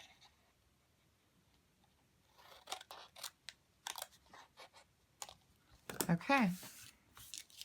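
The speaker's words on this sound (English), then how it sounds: "we're going to cut off those two tabs." Scissors snip through cardstock tabs on a handmade note card box, giving several close, crisp cuts in uneven succession, and a brief spoken word comes near the end.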